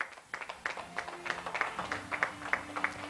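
A school event audience claps in welcome as a speaker takes the stage: a steady run of fairly close handclaps, irregular but dense, with a faint voice underneath.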